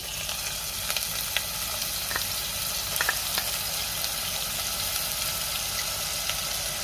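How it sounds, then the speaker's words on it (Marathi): Onion paste sautéing in hot oil with cumin seeds, a steady broad sizzle with a few sharp spatter pops and light stirring scrapes, close and continuous with no talking. "आता कांद्याची पेस्ट आपल्याला चांगली परतून घ्यायची आहे"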